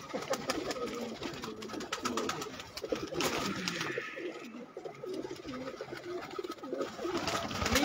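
Pet pigeons on a city rooftop coo steadily in a soft, throaty rolling rhythm, several birds overlapping at close range with constant low murmuring throughout.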